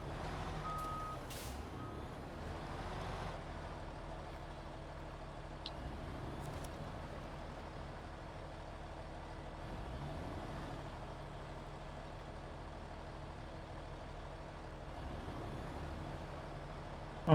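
A truck engine in a trucking video game rumbles steadily for a long stretch as it pushes another truck, with faint clunks and a few brief high beeps early on, at a low, distant level and with no talk.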